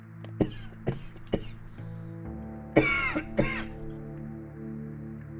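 A series of sharp coughs from a character in the video game Pathologic 2, three quick ones then a pause and two or three more, close and loud over a sustained musical background.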